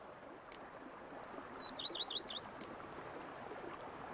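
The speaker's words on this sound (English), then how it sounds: "Bees buzzing, birds chirping." Birdsong in the peaceful countryside of The Witcher 3: Blood and Wine, a short, bright trill of rapid chirps rising from a steady soft ambient hiss, faint and brief, with no voices.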